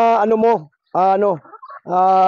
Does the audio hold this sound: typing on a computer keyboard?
no